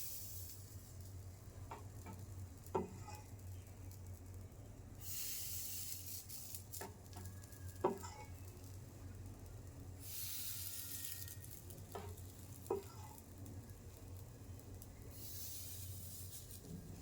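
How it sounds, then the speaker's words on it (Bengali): Pitha batter fries in a pan with a faint, steady sizzle, broken by brief hissing bursts every few seconds and a few soft clicks, heard quietly with no talk. "এই যে বাটারগুলো হয়ে গেছে, এখন ভাজা দিয়ে দেবো।"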